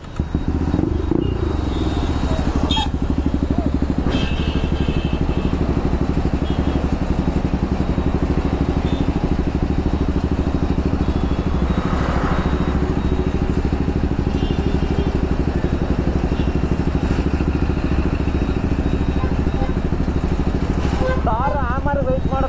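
A motorcycle with its exhaust DB killer removed runs steadily for the whole stretch, a loud, close, unbroken rumble with occasional voices underneath.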